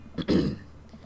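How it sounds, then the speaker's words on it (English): A single throat clearing, close and fairly loud, a short rough burst with a brief lead-in, then quiet. "I clear my throat."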